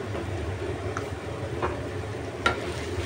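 Ground meat being stirred for Pinoy-style spaghetti with white sauce gives a soft frying sizzle and a low steady rumble, with a few faint utensil clinks against the pan, close and quiet and with no talking.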